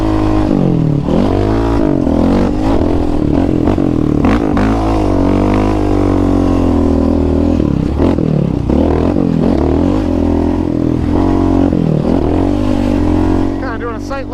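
A Yamaha Raptor 700 ATV roars loudly on a rough track with braking bumps, its engine note rising and falling through repeated revs and shifts, with some clatter over the bumps.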